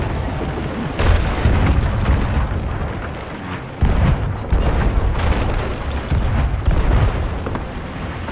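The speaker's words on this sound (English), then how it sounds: "I got shot by a cannon." Cannon fire strikes a player's ship in the pirate game Sea of Thieves: several loud, deep booms with rumbling impacts, the sharpest near the start, middle and end, over continuous low sea and ship noise.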